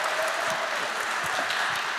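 Dense, even audience applause fills the room during a face-off of post-production consoles, steady hand clapping with no speech over it.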